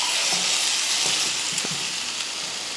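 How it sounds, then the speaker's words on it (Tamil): Egg roast sizzles steadily in masala in a pan over a low flame, a close, continuous frying hiss with a few soft stirring knocks and no voices. "நீங்கள் முட்டை அந்த மாதிரி மசால் போட்டு வேக வைக்கிறப்ப அந்த 2 நிமிஷம் வந்து அடுப்பை சிம்மில் வச்சுக்கோங்க."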